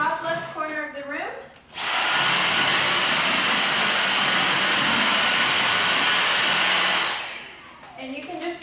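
A vacuum cleaner runs across a living room floor, a loud steady broadband whine that starts abruptly, holds for about five seconds, then cuts off, with brief talk before and after.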